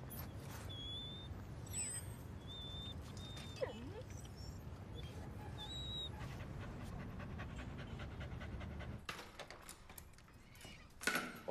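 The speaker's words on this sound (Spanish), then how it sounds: "Es un perro, una mascota, un ser vivo." A dog pants steadily and quietly at close range, with faint high whimpering tones over the breathing, then a few light taps near the end.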